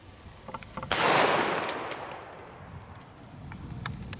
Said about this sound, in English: Can you shoot him, Garrett?